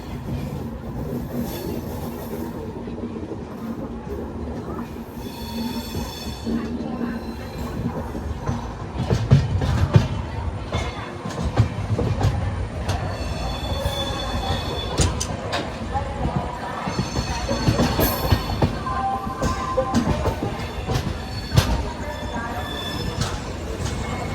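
Special express train from Charlapalli toward Kakinada running on rails, a steady loud rumble with wheel squeals and clickety-clack throughout, with voices heard over the noise.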